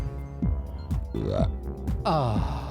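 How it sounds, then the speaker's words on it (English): A person lets out a series of deep, croaking burps, several short bursts in a row with a longer drawn-out one near the end, close and loud with no talking. "Burp freedom, hashtag burp of freedom."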